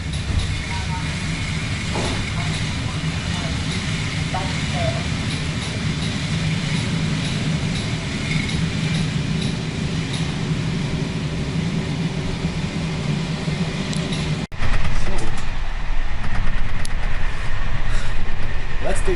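A train rumbles past in Ostrava, Czech Republic, with a steady, loud roar and rattling wheels, then the sound shifts abruptly as it continues close by.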